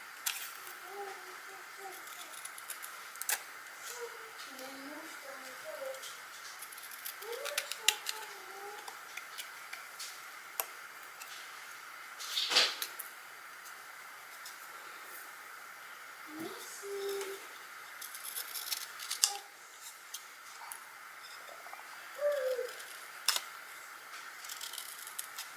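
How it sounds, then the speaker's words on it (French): Scissors snip through a paper banner in a quiet craft setting, giving several short, faint cuts and clicks spread out at intervals, with soft murmured speech in places. "Donc du coup je vais couper au milieu ici."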